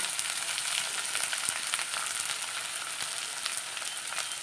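Sliced onions sizzling in hot oil for beef curry, a continuous bright hiss with scattered crackles and pops, moderately close and steady throughout, no voices.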